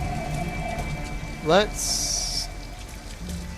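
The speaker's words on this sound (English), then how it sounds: "I would not let her walk in this fucking rain" Steady rain patters down in the video game Detroit: Become Human, a continuous soft hiss of drops on the street. A single spoken word and a brief rising chirp followed by a hissing burst cut through partway.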